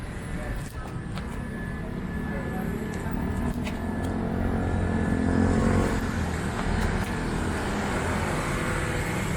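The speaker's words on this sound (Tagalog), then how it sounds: "Traffic." City street traffic in Bonifacio Global City, Taguig, Philippines: a continuous wash of passing cars and engines, fairly close and steady, with faint talk underneath.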